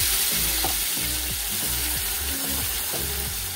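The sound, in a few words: dal added to hot tempering, sizzling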